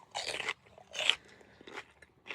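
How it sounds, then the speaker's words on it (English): Fresh snap peas are bitten and chewed up close, giving several crisp crunchy bursts in an uneven rhythm with quiet gaps between, soft overall and with no talking. "Well, don't mind me chewing."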